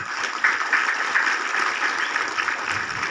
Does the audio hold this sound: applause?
yes